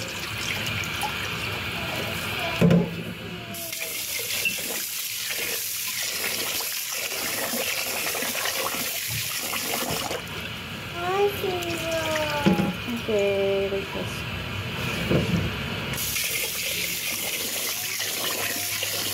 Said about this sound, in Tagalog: Tubig guys.